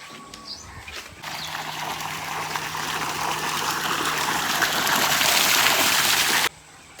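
Pump water gushes steadily while okra is washed under it, a broad rushing splash that swells louder for several seconds, then cuts off abruptly.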